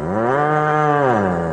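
A single loud, close moo from cattle, a drawn-out harmonic bellow that rises slightly and then falls, heard alone without speech.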